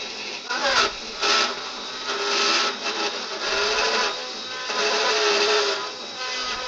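An X-Carve CNC router cutting a chamfer on a toy rocket workpiece, its spindle and bit giving a steady broadband whir that swells and eases in repeated passes at moderate loudness, with no talk over it.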